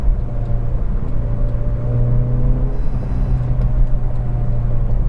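A Toyota Corolla AE92 GT engine drones steadily and loudly from inside the car, holding a constant rough pitch with no voices over it.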